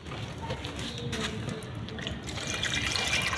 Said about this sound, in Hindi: अब हम इसमें पानी दे देंगे और पानी इतना दीजिए कि नीचे ड्रेनेज होल से बाहर आ जाए।